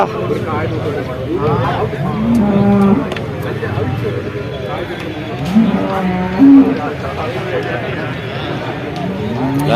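Buffalo at the Vaniyamkulam cattle market in Kerala let out a few drawn-out moos, one loud and close, amid steady crowd murmur and people talking nearby.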